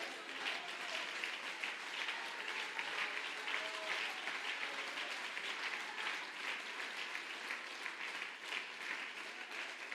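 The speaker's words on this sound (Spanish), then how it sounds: "Alguien que aplauda al Señor" Steady applause from a church congregation during an evening gospel service, dense continuous clapping that fills the room at an even level without a break.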